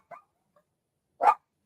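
Two short barks from household dogs, a quick one at the start and a louder, fuller one about a second later, with near silence in between and no talk.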